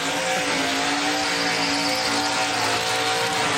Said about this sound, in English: This could be the world's shortest burnout.